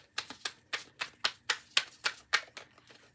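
Tarot cards riffled and shuffled by hand in quick rhythmic bursts, about a dozen crisp papery flutters close by with short gaps between, no voices.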